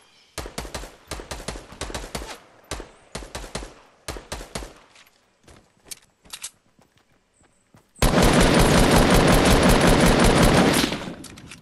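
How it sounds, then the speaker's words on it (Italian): Gunfire in the video game Fortnite: rapid automatic bursts and scattered single shots crack close and loud, then a sustained loud roar of fire or explosion near the end. "A chi stanno a sparare?"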